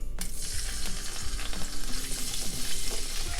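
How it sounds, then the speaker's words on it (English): Garlic sizzling in hot oil in a pan, a loud, dense and steady crackling hiss that carries on unbroken throughout, with no talking. "We'll heat up the pan and add some oil. And I'm going to add some garlic."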